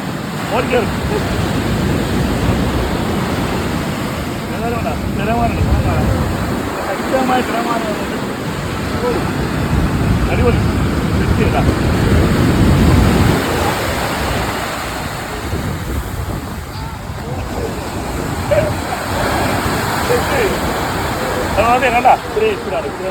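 Ocean surf at Marina Beach, Chennai, surging and receding in broad washes, with heavy wind buffeting the microphone and voices talking over it.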